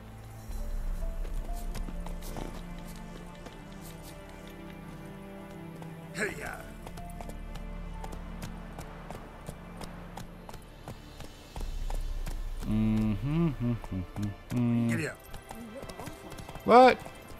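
Rhythmic clip-clop of horse hooves at a steady gait in The Witcher 3: Wild Hunt, with a few whinnies and game sounds layered over it and brief bursts near the end.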